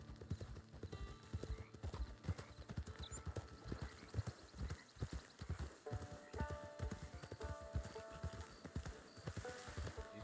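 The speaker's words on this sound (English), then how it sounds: "It's your horse." Horse hooves clip-clop steadily at a walking pace in the Western video game Red Dead Redemption 2 online, close and continuous over a layered musical and ambient game soundscape, with a brief whinny-like cue.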